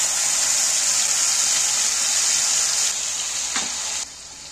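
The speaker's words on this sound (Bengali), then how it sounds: "এইবার আমি টমেটো আর আদা রসুন পেস্টটা এর মধ্যে তুলে দিচ্ছি।" Tomato and ginger-garlic paste dropped into hot oil with fried cumin seeds and asafoetida, giving a loud, steady close sizzling hiss that eases slightly, then drops off sharply near the end.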